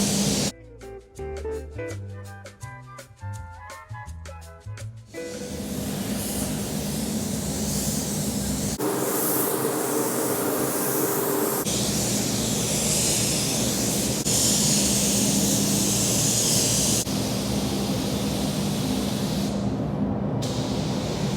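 A spray gun hisses steadily as paint goes onto C5 Corvette parts, a loud, continuous rushing spray with brief breaks between passes, after a short stretch of music at the start.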